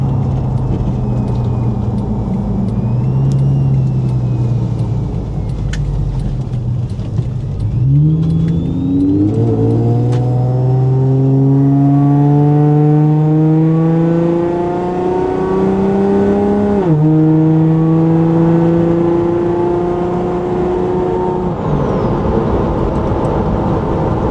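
Supercharged Toyota FJ Cruiser pulling hard on a highway, engine climbing through the gears in rising sweeps with a pause and shift between pulls, loud and close with no talking.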